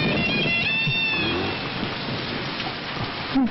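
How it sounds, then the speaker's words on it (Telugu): Steady broadband hiss of rain falling throughout, with faint higher tones and a brief low knock near the end. "వర్షం వస్తుంది కదా"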